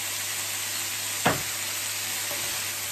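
Sliced fennel browning in a frying pan with black Madagascar pepper, a steady soft sizzle throughout, broken once by a sharp clack of a utensil against the pan.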